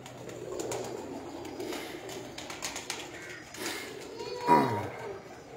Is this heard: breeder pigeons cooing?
yes